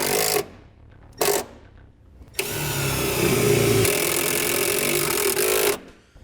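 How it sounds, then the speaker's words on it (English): A nut driver runs self-tapping screws into a mounting bracket for a 12-volt outlet kit. Short buzzing bursts are followed by a longer, steady whirring drive, loud and close, with no talking. "Let's use a nut driver."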